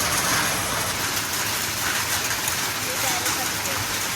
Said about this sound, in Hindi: बारिश नहीं होती इतनी आज हो रही है